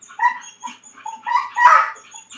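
Working dog vocalizing up close with short yips, whines and barks in an uneven series, one louder burst near the middle, over a quiet background.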